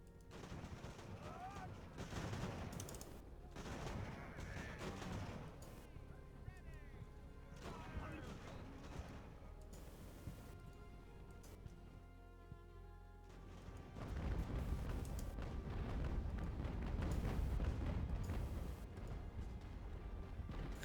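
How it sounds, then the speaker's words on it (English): Ship cannon fire in the naval game Ultimate Admiral: Age of Sail booms out in repeated heavy volleys, with a denser, louder barrage toward the end, set against steady battle ambience. "that gun is hitting us the ship is hitting us at the moment"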